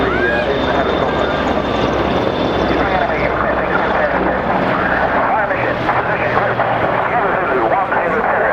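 A Merlin helicopter flies over during an anti-piracy display at the Bournemouth Air Festival 2017, its loud, steady rotor and engine roar filling the whole stretch.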